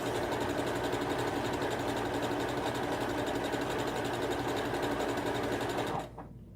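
A sewing machine stitches a blue floral maxi dress in one steady, dense whir, close and loud, stopping abruptly near the end.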